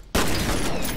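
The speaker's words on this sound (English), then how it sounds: "Shotgun time." Shotgun firing in the shooter game F.E.A.R. Extraction Point, one sudden loud blast with a dense, sustained roar of noise after it, close and alone.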